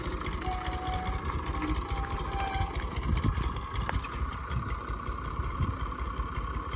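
A tractor engine runs in a wheat field at harvest, a steady mid-pitched drone that holds fairly constant and swells slightly around the middle, heard from a moderate distance with no one speaking.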